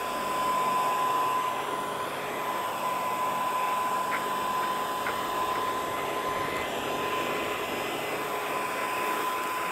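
A server fan driving a homemade hovercraft blows steadily with a loud, unbroken airy roar and a faint whine, running alone without speech.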